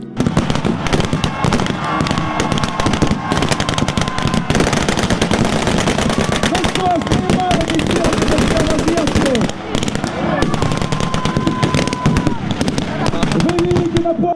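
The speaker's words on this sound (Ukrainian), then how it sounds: "розбиваючи небо пострілами гармат і автоматів" Rapid bursts of automatic gunfire and heavy booming cannon shots at a battle reenactment in Odesa crackle continuously, loud and dense, with voices faintly audible beneath the barrage.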